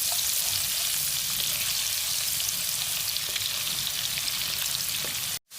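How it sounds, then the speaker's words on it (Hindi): Chopped medium-sized onion fries in butter with a steady, dense sizzle and faint crackles throughout, cutting off sharply at the end. "मैं एक मीडियम साइज़ की प्याज इसके अंदर डालकर फ्राई कर लूँगी"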